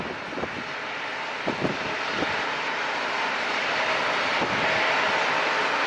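Airliner jet engines spooling up with thrust directed toward the listener at San Diego International Airport, a loud broad roar that steadily builds in strength, with a few faint thumps early on and no talking.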